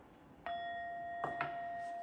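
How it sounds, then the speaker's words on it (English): A bell is rung once and rings on with a clear, sustained tone. A couple of lighter strikes follow soon after, all close by in a quiet room. "let's ring the bell."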